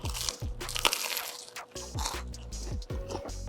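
Crunchy bites into a crispy jalapeno popper grilled cheese, several loud close crackles with chewing in between and no talking.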